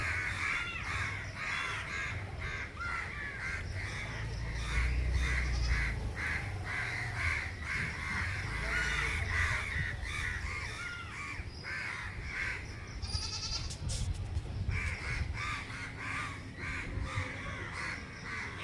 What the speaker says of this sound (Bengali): সুন্দর পাখির ডাক